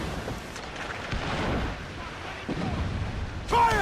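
Ship cannons fire in a video game naval battle, several heavy booms rolling out over ambient battle noise, with a voice shouting commands.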